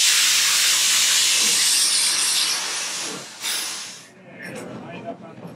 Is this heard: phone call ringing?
no